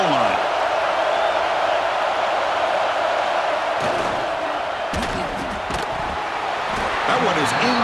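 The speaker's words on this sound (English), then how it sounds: "the crowd really making some noise now, trying to help out this defense to get this stop near the goal line" Stadium crowd roars in EA Sports College Football 26 as the defense fights for a goal-line stop, a loud steady wash of cheering with a few sharp thuds, while a commentator talks over it.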